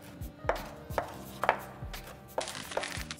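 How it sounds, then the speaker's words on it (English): A knife cuts a lime in half on a cutting board, producing about six sharp, close chopping knocks at an uneven pace, with a faint steady hum behind them. "Can you cut that lime in half?"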